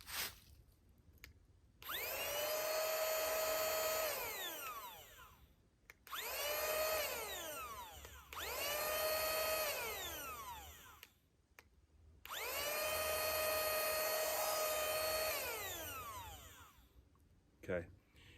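A battery-powered bug vacuum catcher with a flap is switched on and runs in several long bursts, a high whining motor that winds up and spins down between runs, close by with a few short pauses.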